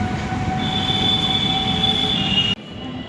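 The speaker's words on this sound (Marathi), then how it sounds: "आणि हे भूतनाथ मेट्रो स्टेशन" A Lucknow metro train at Bhootnath metro station gives a loud, continuous rumble with a steady high wheel squeal that cuts off sharply near the end, leaving a quieter hum.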